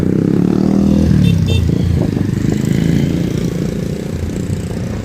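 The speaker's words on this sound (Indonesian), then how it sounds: "ini motor lewat dulu" A motorcycle engine rumbles close by on a roadside near a river, loud at first and easing slightly as it moves past, with traffic noise around it.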